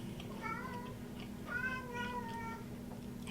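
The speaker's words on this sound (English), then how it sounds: "this is why I don't want him in here, because he meows at me like that" A house cat meows indoors, two or three drawn-out, wavering cries close by over a constant low hum.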